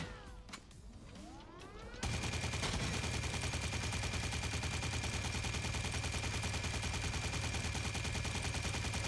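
Rapid, continuous automatic gunfire in the video game Drawn To Death erupts after a quiet stretch of about two seconds and then stays loud and dense without a break.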